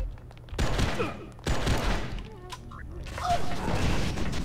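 Bursts of gunfire from enemies shooting at the player in the video game Oni, arriving as loud, dense volleys around one and a half seconds apart and mixed with clattering impacts, with no talk over them.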